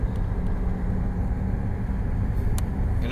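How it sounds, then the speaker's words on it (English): A twin-turbo Jeep SRT runs with a loud, deep, steady exhaust rumble close by, driving at a constant pace with only brief faint ticks above it and nobody speaking. "The turbos sound amazing. The exhaust is just super loud."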